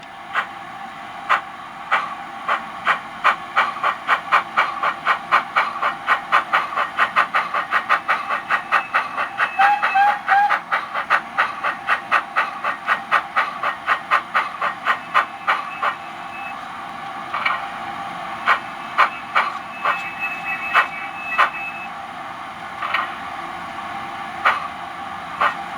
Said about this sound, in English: Also, you can hear every fourth chuff the sound of the vacuum pump.